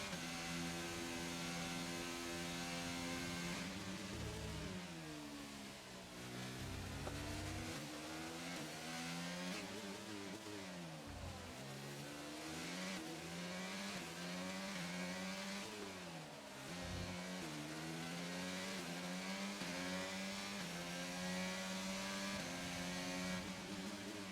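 Formula 1 race car engine from the F1 22 racing game, career mode at Singapore, a steady loud high-pitched whine rising and falling through repeated gear shifts and revs, continuous across the whole stretch with no talk.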